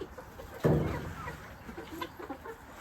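A brief, muffled clucking from a chicken sits low in a quiet yard with faint background noise, no talk.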